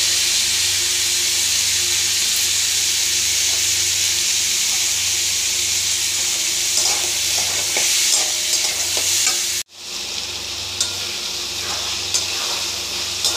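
Boiled chowmein noodles fry in plenty of oil with a continuous loud sizzle and hiss, a brief cut near the end, and light clinks of stirring; no voices.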